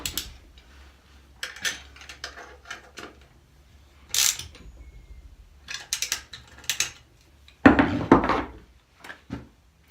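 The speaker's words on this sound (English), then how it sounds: "get all the bolts in like finger tight before you start doing them up with the ratchet" A ratchet ticks in short bursts while bolts are done up on a car during a short shifter install, with clicking runs and metallic knocks spaced irregularly and close by, no talking.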